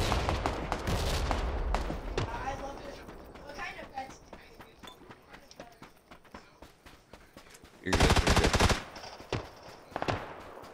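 Video game gunfire in a tactical shooter, with bursts of rapid shots crackling through continuous voice chat and a loud, dense volley near the end.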